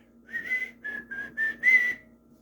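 Whistling of a tune from Snow White, five clear melodic phrases in a bright, close, solo whistle with short gaps between notes.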